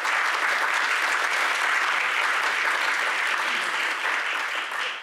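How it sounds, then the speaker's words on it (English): Steady, dense applause from a conference audience, clapping continuously and evenly for several seconds without pause. "So we wanted to give him a big round of applause."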